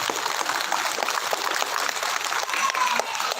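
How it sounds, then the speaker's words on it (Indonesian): An audience at an outdoor religious gathering on Bawean island applauds, a dense, fairly faint wash of clapping that holds steady throughout without standout voices. "Tepuk tangan untuk Bawean."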